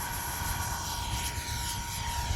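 An X-Fly F-22 Raptor twin 40mm RC jet flying on a windy day, giving a steady, fairly faint rushing whine of ducted fans that holds even throughout.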